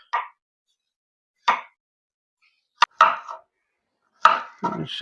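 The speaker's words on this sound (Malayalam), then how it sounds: "അതിവിടെ ഇല്ലാത്തതുകൊണ്ടാണ് പിച്ചാത്തി കൊണ്ട് അരിയുന്നത്" A knife chops raw banana for chips: about six crisp, sharp strikes spaced irregularly and slowly, with near silence between them.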